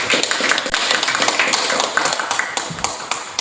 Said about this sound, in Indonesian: silakan beri aplaus kepada kelompok